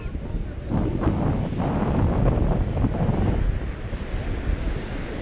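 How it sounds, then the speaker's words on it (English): Big, rough ocean waves roll onto a wide beach on a windy day, a constant heavy roar of surf mixed with wind buffeting the microphone, loud and unbroken. "Big old waves."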